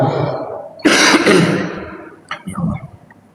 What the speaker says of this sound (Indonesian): Dibumbui batuk nih